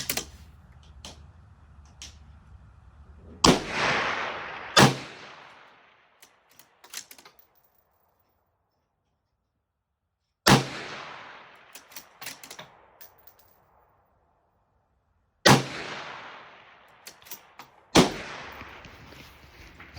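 Rifle shots from a Mossberg MVP bolt-action rifle firing 77 grain open tip match rounds at a 420-yard range: four loud, sharp reports spaced several seconds apart, each ringing out with a decaying echo, among faint clicks and rustles.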